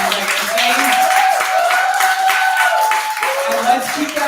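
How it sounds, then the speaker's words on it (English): An audience at a poetry festival gives a sustained round of applause for three poets, with dense, loud clapping and a few whoops, while a voice speaks over it. "Let's have a round of applause for our three poets, Frank Messina, Megha Sood, and Reggie Gaines"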